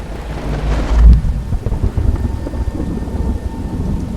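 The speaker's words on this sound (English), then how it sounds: "the scene went black in a single roar of thunder." A deep roar of thunder in a storm, used as a sound effect in an audiobook novel, swells into one heavy rumble and then trails off under rain and low wind noise, with no voices.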